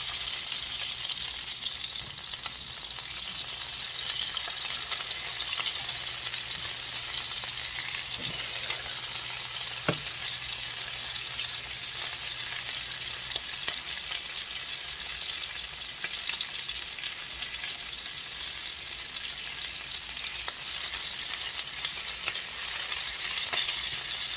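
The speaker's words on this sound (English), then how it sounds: "It doesn't take long to sear at all." Pork chops sear in a pan with a steady, loud, broad sizzle that holds for the whole stretch. A single sharp clink cuts through partway, and no voices are heard.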